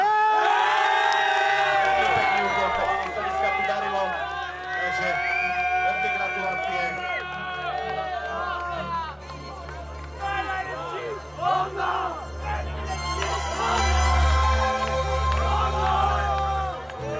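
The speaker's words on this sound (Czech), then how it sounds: "Veľký potlesk poprosím pre obec Londra." A crowd at a village volunteer fire brigade competition cheers and shouts loudly for the winning team from Londra after its run with a historic fire pump, with a lively continuous roar, whoops and voices throughout, swelling again near the end.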